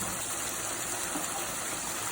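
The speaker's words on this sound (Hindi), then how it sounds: "इसमें और 3 कप पानी डाल देंगे" Water poured into fried mutton karahi in a cooking pot makes a steady, continuous gushing hiss that stays even and fairly loud throughout, with no talking.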